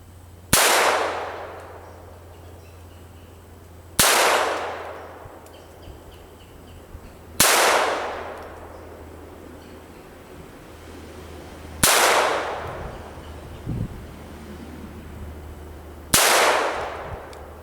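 Five sharp shots from a SIG Mosquito .22 pistol fired at a 20-foot target outdoors, spaced about four seconds apart, each a loud crack with a short ringing decay over a steady low hum, no talking.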